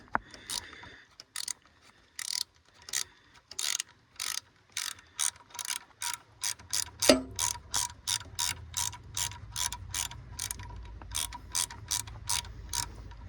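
A ratchet tightens a bolt on the throttle position sensor of a 1993 Cadillac Fleetwood Brougham, giving quick, evenly spaced clicking bursts close up, with a brief knock midway and a low background hum.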